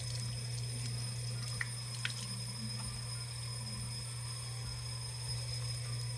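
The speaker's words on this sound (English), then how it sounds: "just wash away until the water runs clear" Steady running water pours from a tap over makeup brushes being rinsed, a continuous rushing wash with faint squishy, wet sounds mixed in.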